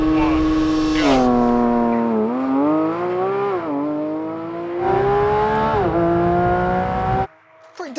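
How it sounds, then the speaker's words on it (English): A Porsche 911 GT3 RS launches hard from the start on a test track. The loud engine screams up through the gears in rising sweeps with brief dips at each shift, then fades away. "Pretty decent launch there, 0 wheel spin, but you know, that's what you expect from a Porsche, isn't it?"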